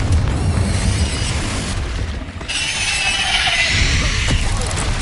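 Blasting curse explosion from a spell in Hogwarts Legacy on PS5: a loud, dense boom with crackling burst that fills the whole clip, another blast rising near the end, no talk.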